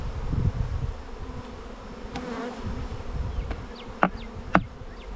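Wasps buzz close around an opened honeycomb box, a wavering drone with individual insects passing near and a couple of sharp knocks toward the end, no voices.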